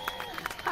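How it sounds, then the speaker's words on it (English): A short patter of audience applause greets the hosts at the start of an album listening party. A few scattered, moderately loud claps fill less than a second, and a voice starts up right at the end. "Love that applause."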